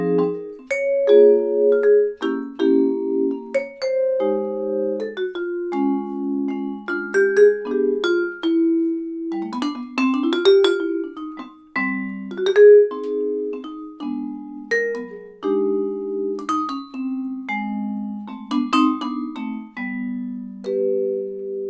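Mellow, ringing vibraphone plays a jazz standard alone, with chords and melody notes sustaining in a steady swinging phrase.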